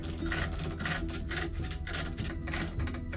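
Lathe cutting metal on interrupted first cuts of a reconstructed ancient precision lathe, a coarse rhythmic rasping scrape pulsing about three times a second, close and steady, with no voices.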